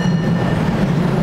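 Wrocław number 7 tram riding along, a steady low rail rumble with faint wheel hum and high whine, brief and continuous, heard from inside the rear car.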